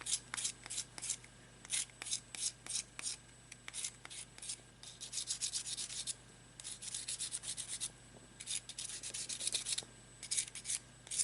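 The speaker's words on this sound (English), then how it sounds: "I will use the sandpaper to make sure that the edges are smooth." Sandpaper rubbing the edges of a dried air-dry clay pendant, close scratchy strokes in repeated bursts with short pauses between them, no voices.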